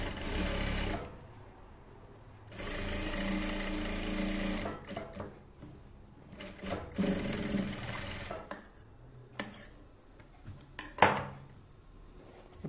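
A sewing machine stitches the lining of a blouse hook strip in short loud bursts, starting and stopping several times with quiet handling and clicks between runs, close up and without speech.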